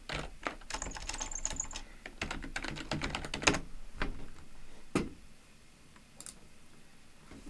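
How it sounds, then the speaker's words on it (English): Keys clatter on a computer keyboard as a username and password are entered to log into a remote Ubuntu desktop: dense, fast runs of close clicks for several seconds, then a few isolated taps and a sharper knock. "Then type in your username and your password."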